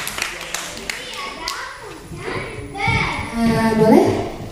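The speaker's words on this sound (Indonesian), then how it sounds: "Tepuk tangan dulu dong untuk Adeline." At a kindergarten graduation in Bandung, a few sharp hand claps ring out first, then children's voices and chatter take over, with some clapping still mixed in.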